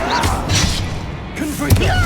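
A Descendo spell in the Hogwarts Legacy video game slams down with a heavy thud amid whooshing magic effects, loud and close, while game voices speak.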